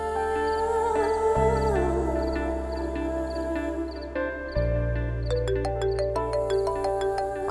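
A mobile phone plays a melodic ringtone for an incoming call: a steady, sustained run of tones that changes pitch midway, with a bright chiming pattern near the end, heard clearly indoors with no talk.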